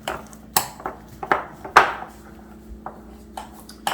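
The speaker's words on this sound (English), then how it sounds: "I'm stirring the cream cheese and the mozzarella in." Melted cream cheese and mozzarella being stirred in a bowl, a series of irregular knocks and clinks of utensil against bowl, close and fairly loud, no talking.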